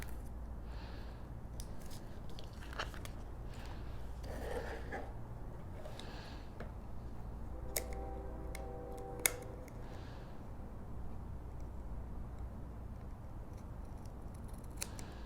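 Scissors snipping paper elements during fussy cutting for a craft project, faint and close with sparse small clicks over a steady background hum, no talking.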